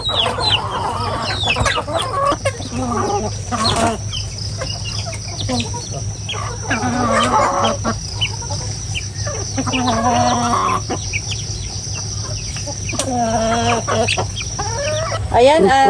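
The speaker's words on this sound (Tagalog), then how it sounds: "Nagpapakain lang po siya ng mga alagang manok." Chickens cluck busily and continuously up close, with a rooster crowing now and then amid the flock's chatter.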